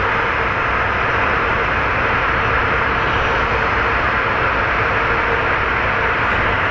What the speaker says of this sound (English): The plane that we're looking at is American